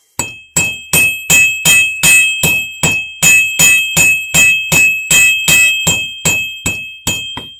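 A smith forging a musket tool hammers metal on an anvil: a steady run of about eighteen loud, ringing strikes, evenly spaced, each leaving a bright metallic ring that fades before the next blow.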